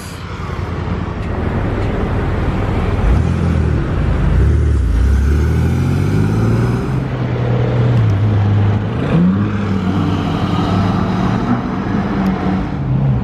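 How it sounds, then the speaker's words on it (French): A Rolls-Royce Phantom 8 drives past in Monaco, its loud, smooth engine hum rising and falling in pitch as it nears and moves off, over a constant rumble of road noise. "Phantom 8, tout au fond là-bas, piste."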